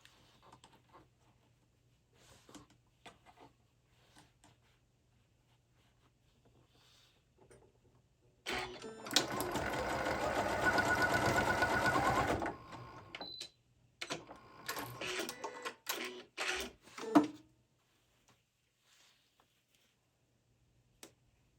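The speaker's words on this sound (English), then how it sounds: "We'll just sew them, make them go one way or the other, whichever way you prefer." A sewing machine stitches the box seams of a fabric pouch. It gives one steady whirring run of about four seconds, then several short stop-start bursts, close by in an otherwise quiet room.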